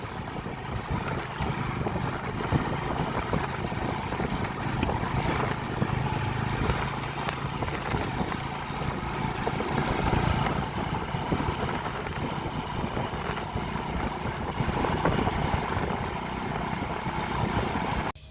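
A modified motorcycle engine idles steadily nearby, a continuous low rumbling drone that holds even throughout with no voices over it.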